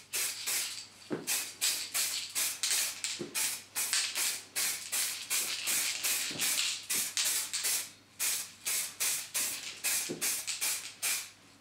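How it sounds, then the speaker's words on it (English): A can of Rust-Oleum Surface Primer is shaken hard and steadily, the mixing ball rattling in a fast, even rhythm up close, with brief pauses between runs of strokes. "you need to give it a good shake for at least a minute"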